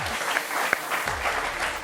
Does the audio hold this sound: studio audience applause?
yes